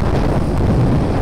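Wind gusts through a tree canopy after rain, shaking loose drops; a steady, broad, close rush with no distinct individual patters and no voices.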